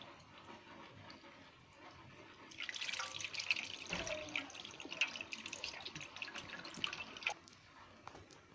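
Flour dough is washed under running water to check it for plastic, giving a faint trickle that swells into a steadier splash and drip with small sloshing sounds partway through.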